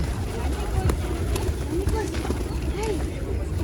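Flocks of pigeons near Zenkov Cathedral in Kazakhstan give short, soft cooing calls that come and go beneath someone talking steadily, with outdoor crowd noise around them.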